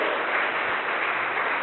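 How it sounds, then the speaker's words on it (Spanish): Church congregation clapping together in sustained, dense applause during a worship service, steady and even throughout with no voices over it. "Démosle el aplauso al Señor fuerte"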